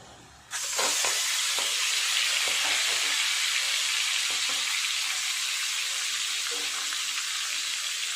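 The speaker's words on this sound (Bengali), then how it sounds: "কড়াই গরম হয়ে গেছে তেল দিয়ে দিয়েছি তেলও গরম হয়ে গেছে মাছগুলো দিয়ে ভাজা করব" A loud, steady sizzle bursts in as fish hits hot oil in a wok and continues as a dense crackling hiss with occasional pops, without any voices.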